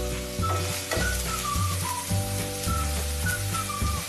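Chopped green chillies and onion sauté in a hot pan for an egg kothu chapathi, giving a steady close sizzle with scraping and stirring clicks throughout and no talking.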